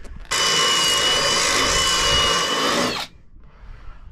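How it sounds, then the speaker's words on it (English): A power drill boring a hole through aluminum during a radar installation on a boat, a loud steady whining bite lasting nearly three seconds, then stopping abruptly into quiet. "This drill does a good job with this aluminum."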